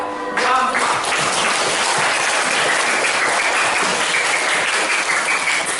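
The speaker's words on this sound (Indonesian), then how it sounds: "Beri aplaus untuk keseluruhan kelompok yang presentasi hari ini" A classroom group that has just presented receives a burst of dense applause. It starts after a brief voice and holds steady and loud for several seconds.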